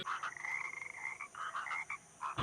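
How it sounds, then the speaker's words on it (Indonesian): Frog croaking steadily in a rapid, rhythmic series of raspy calls, fairly close and clear, with brief gaps and no speech over it. "Suara katak meminta agar diturunkannya hujan."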